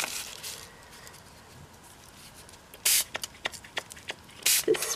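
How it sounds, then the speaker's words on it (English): Short bursts of spray paint can hiss, a couple of longer sustained sprays and several quick sputtering puffs from a can that won't spray well, over quiet background. "Spray does not want to spray."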